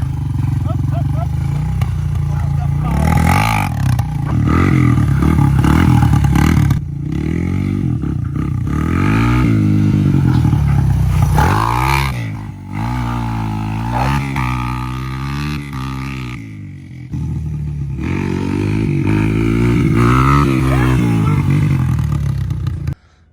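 Honda XR200R motorcycle engine, freshly tuned with a cleaned carb and petcock, running and revving up and down in strong close bursts with rising and falling pitch.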